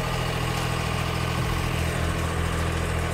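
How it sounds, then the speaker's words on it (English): An 80 horsepower turbo diesel engine powering a stump grinding machine with Tomahawk teeth runs at a steady idle, a loud, close, continuous rumbling drone with constant vibration. "I think it's 80 horsepower diesel turbo engine"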